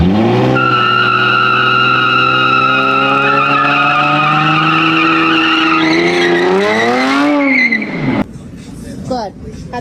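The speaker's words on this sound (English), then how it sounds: "Burn out!" A truck doing a burnout at a gas station, tires screeching in a loud sustained squeal with a rising, bending pitch under the engine roar for about eight seconds, then cutting off as people shout and talk nearby.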